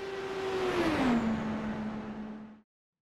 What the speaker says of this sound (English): I'm gonna jump into the IR18 Dallara IndyCar in iRacing